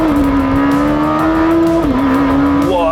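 A Lamborghini Temerario in Corsa mode screams under hard revving, its loud engine note climbing steadily, dipping at a gear change, then rising sharply again near the end.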